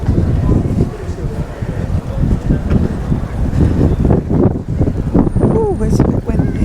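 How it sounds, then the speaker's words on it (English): Strong wind buffets the microphone outdoors near Battersea Power Station in London, a loud, continuous low rumble with gusty surges throughout. "Oh, it's a bit windy."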